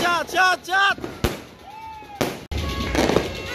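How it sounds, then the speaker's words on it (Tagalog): Several sharp New Year's firework bangs burst out between excited voices, with a whistling rise before one blast and crackling afterward. "Nawala na mga fireworks!"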